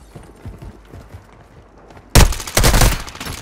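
Gunfire in a combat video game, a few soft distant shots at first, then a sudden loud close burst of rapid automatic fire that continues in dense, heavy volleys to the end.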